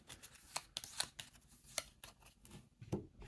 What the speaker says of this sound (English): So I'm going to shuffle that.